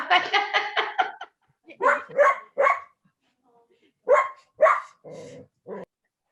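A hoarse dog barks in a rapid run of sharp yaps, then gives a few more spaced barks, close and loud, mixed with people talking in a studio setting.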